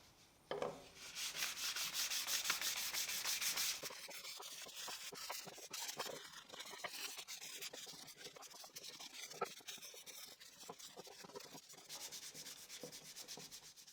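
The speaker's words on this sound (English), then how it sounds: "Now I'll do the final sanding using a finer sandpaper." Close, quiet final sanding of wood with fine sandpaper: a dense scratchy rasp at first, then lighter, irregular rubbing strokes with brief pauses, no voices throughout.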